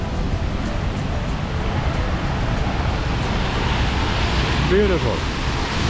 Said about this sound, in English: And that is the waterfall.